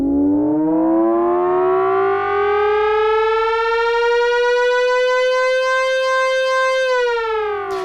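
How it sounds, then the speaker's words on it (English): A riser preset on an Arturia MicroFreak synthesizer sweeps steadily upward in pitch for several seconds, a bright, buzzy siren-like tone that swells and then cuts off, loud and alone. "riser 1A is almost the same thing, but I sort of removed that note playing effect, and it's a bit more like a traditional riser"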